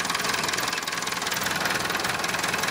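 An old Toyota Corolla engine with an exhaust leak runs steadily nearby, giving a continuous loud, rough drone with a faint knocking texture throughout and no pauses.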